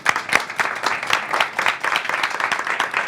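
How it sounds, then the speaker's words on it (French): A studio audience on a French broadcast show applauds a guest named Mina with steady, dense clapping that holds at an even, fairly loud level throughout. "On peut l'applaudir."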